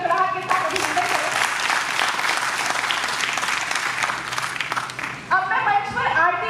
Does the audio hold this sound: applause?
yes